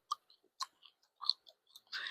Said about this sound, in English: And I'm chewing gum.